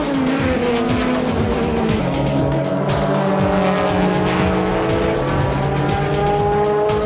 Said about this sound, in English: Here comes the Denso Supra on the final straight, and it takes the lead before the Essa Supra can get out.